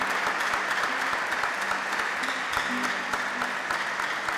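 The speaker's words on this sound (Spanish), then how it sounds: "Un aplauso para usted." A church congregation at a Mass for artists and communicators applauds a radio broadcaster from Radio Amistad, the clapping steady and dense throughout with a faint low hum beneath.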